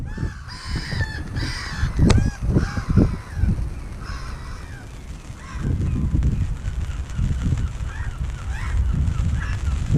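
Several seagulls call loudly at a windy beach at Gorleston-on-Sea, harsh cawing cries in quick clusters at first, then scattered calls over a steady rush of wind and surf.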